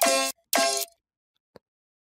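Synth plucks from a track: two bright, harmonic stabs in quick succession, close and loud, followed by silence and one tiny clicky blip near the end, with no voices.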